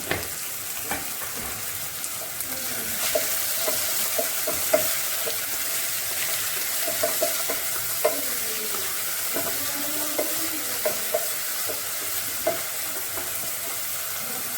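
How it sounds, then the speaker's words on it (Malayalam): Onions sauté with salt in a frying pan, a continuous soft sizzle broken by occasional scrapes and taps as they are stirred over several seconds. "കുറച്ച് ഉപ്പും കൂടെ ചേർത്തിട്ട് നന്നായിട്ട് സവാള വാട്ടിയെടുക്കാം"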